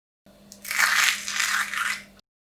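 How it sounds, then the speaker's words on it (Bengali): Crispy fried shredded potato chips snapped by hand give a close, dry crunching burst lasting about a second and a half, rising in a few crackly waves before stopping. "আর কতটা ক্রিস্পি হয়েছে আমি আপনাদেরকে ভেঙে শব্দটা শোনাই।"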